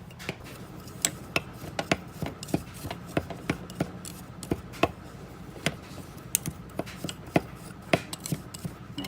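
Borax and lemon juice stirred together, a steady series of light clicking, tapping strikes against the container at a quick irregular rhythm, close and fairly quiet.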